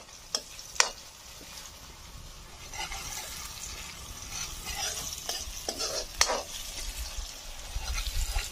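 Crushed garlic and chili sautéing in a pan with onions and tomatoes, a low steady sizzle with a few sharp spatula clinks and stirring scrapes, close and fairly quiet, no voices.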